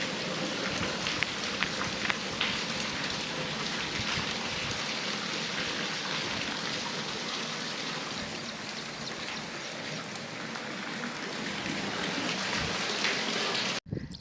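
Steady rain falls near an old railway bridge, a dense, even hiss of drops holding constant for the whole stretch before cutting off abruptly at the end; no voices.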